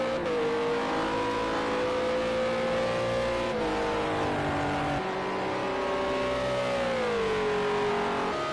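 A World Series by Renault race car at the Sakitto circuit, its engine note loud and steady, rising and falling as it revs through gears and passes close by.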